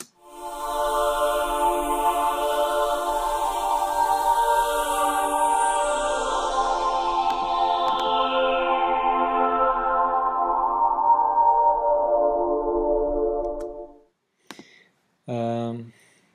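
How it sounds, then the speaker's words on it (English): A sustained synthesized choir pad in a reggae beat holds soft chords steadily for about fourteen seconds, then cuts off, followed by a brief short sung note at the end. "The next thing that I added was a choir sound"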